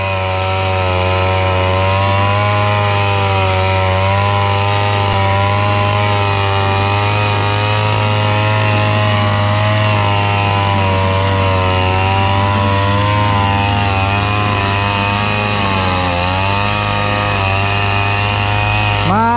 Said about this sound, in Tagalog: Nakakamiss din mag-grass cutter ah.